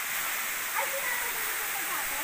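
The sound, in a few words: waterfall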